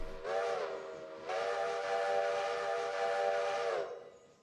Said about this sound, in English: Definitely blowing the whistle like it's supposed to.